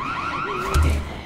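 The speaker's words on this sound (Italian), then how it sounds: "Dov'è l'allarme?" A warbling electronic car alarm wails steadily in the zombie video game Dying Light, moderately loud, with a brief low thud partway through; no one speaks.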